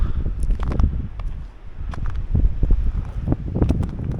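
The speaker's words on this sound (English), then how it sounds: "it's windy" Wind gusting across a snowy ice road in Norway, rough buffeting microphone noise that rises and falls in uneven bursts, close and fairly loud, with no talking.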